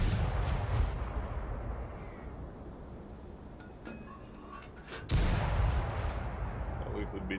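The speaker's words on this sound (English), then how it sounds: "A little bit of blind shooting." Blind shooting in a shooter game, rumbling heavy gunfire with sharp impacts and a loud blast near the end, mixed with ongoing noise.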